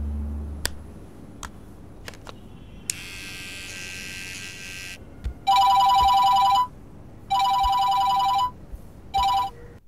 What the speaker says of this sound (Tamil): கொஞ்ச நேரமா ஒரே நம்பர்ல இருந்து கால்ஸ் வந்துட்டிருக்கு.